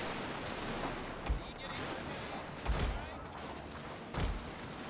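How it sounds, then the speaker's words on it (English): Artillery fire in a Prussian strategy video game, with three heavy booms spaced a second or more apart over a dense, constant battle din and gunfire. "Can I get artillery shots in here?"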